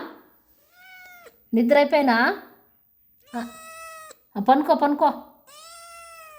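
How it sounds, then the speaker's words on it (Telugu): A house cat meows loudly and repeatedly up close, with longer drawn-out calls between a woman's spoken lines. "చూడండి మా పిల్లి అరుస్తుంది"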